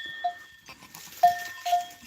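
A goat that has just given birth out in the hills bleats in short, separate calls, three or four brief cries against quiet outdoor background.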